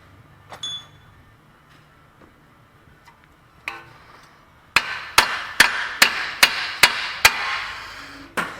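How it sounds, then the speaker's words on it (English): Hammer blows strike a Honda front axle during replacement, roughly seven or eight sharp, loud metallic hits in a steady rhythm after a few faint taps and clinks. "Now grab a hammer."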